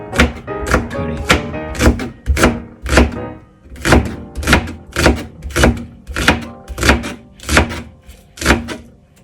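A knife chops green onion on a cutting board in a steady run of about fifteen close, loud thuds, evenly paced with brief pauses, with no talking.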